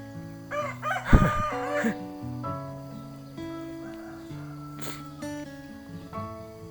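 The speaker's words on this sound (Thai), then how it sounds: "มีเสียงนกเสียงไก่ขัน" A rooster crows loudly nearby in the morning, a long drawn-out call, while other chickens cluck and small birds chirp around it in an open outdoor setting.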